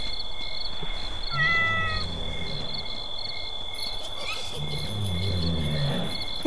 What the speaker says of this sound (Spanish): Se escuchó un gato, boludo.